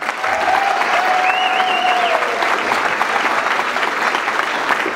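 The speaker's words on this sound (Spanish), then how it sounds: "Por favor, un gran aplauso para todos los residentes de North Bergen." Audience applause fills a Thanksgiving celebration for North Bergen residents, a steady, loud wash of clapping throughout with a faint whistle-like tone and crowd murmur mixed in.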